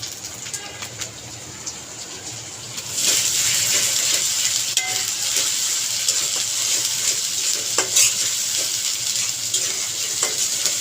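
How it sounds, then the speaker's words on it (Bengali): Browned onion with cumin paste and onion-green chilli paste stir-fries in a pan. A quieter hiss jumps to a loud, steady sizzle, broken by occasional scraping stirs, with no voices. "তারপরে এটাকে আমি ভালো করে নেড়ে চেড়ে কষিয়ে নেব যাতে পেঁয়াজের কাঁচা গন্ধ না থাকে।"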